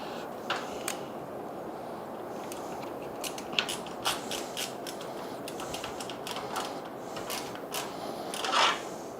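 Screws are fitted into a small PC case in a kitchen, with quiet, scattered metallic clicks and ticks of parts and a screwdriver, close and faint over a low room hiss.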